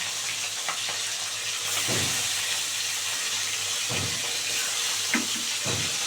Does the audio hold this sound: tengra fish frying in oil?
yes